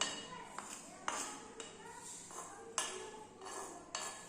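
A spoon clinks against a small toy cooking pot in a run of light, evenly spaced metallic taps while food is stirred, with a voice talking softly in the background.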